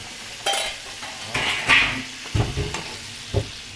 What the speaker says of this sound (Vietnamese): Mình cho vô nồi nước luôn, nồi nước mình cũng sôi rồi.